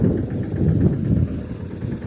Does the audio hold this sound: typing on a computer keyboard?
no